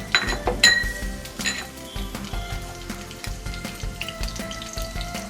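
Urad dal, cumin, mustard seeds and dried red chillies fry in hot oil on low flame, a soft continuous sizzle with light metallic clinks and taps from a spoon against the pan.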